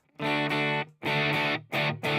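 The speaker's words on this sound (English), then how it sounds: "So let's throw that into the distortion." Electric guitar played through a distortion effect on a Headrush unit, with Greenchild K818 mid boost tones: three loud sustained chords or riffs separated by short breaks, with no talking.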